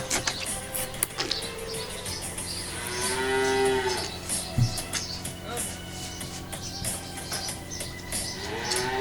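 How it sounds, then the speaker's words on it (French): Holstein heifer calves moo repeatedly on a farm while being fed milk, several drawn-out calls close by over a busy background with faint birdsong and a person speaking. "Donc ça c'est des femelles Holstein qui seront des vaches plus tard."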